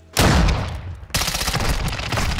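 Rapid gunfire erupts in the Modern Warfare 2 video game, two loud bursts of shots with a brief pause between them, close and punchy, the second volley continuing to the end.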